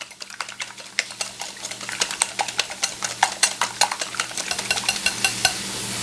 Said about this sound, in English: I'm just going to give this a mix, whisk it all together really good.